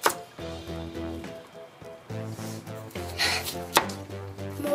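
A kitchen knife chopping food on a board, a few faint irregular knocks mixed into quiet background music.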